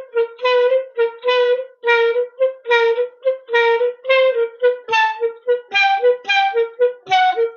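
Opening of a tango study in a 3-3-2 rhythm, played as clear melodic notes with a low bass pulse, loud and close with repeated accented groupings and no talking.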